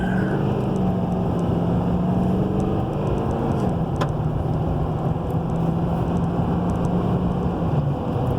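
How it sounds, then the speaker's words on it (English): A 2017 Chevy Silverado 3500 wrecker repo truck with frame damage, engine running loud and steady with a rising drone as the gas is pressed, one sharp knock partway through, and no talk. "And I'll hit the gas."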